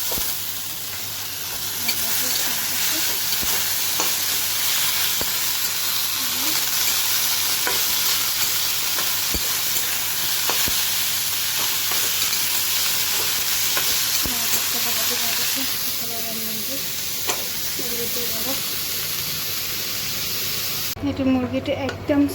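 Sliced bitter gourd fries in a pan with a steady, close hissing sizzle that runs almost unbroken, with faint stirring scrapes and a brief clatter near the end.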